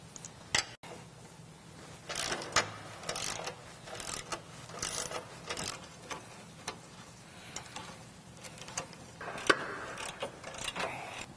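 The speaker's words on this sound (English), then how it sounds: "Let's go ahead and remove all those bolts." Ratchet wrench clicking in short bursts while a 13/16 socket removes tow hook and side bolts from a Jeep JL rear bumper, a close, fairly quiet mechanical ticking with brief pauses between runs.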